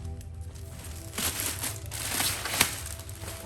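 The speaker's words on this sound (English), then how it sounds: "The plastic bag is going to break. It's just too small." A plastic bag crinkles and rustles steadily during the unboxing of a black Coach Rogue 39 handbag, close and continuous with a sharper crackle near the end.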